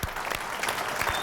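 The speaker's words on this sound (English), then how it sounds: "A well-earned round of applause from everyone here in the Rio Poker Room as Dan Harrington hits the rail." Applause from the audience in the Rio Poker Room at a World Series of Poker Champions Invitational as a player is eliminated: a dense, steady wash of clapping, fairly loud and continuous throughout the short stretch.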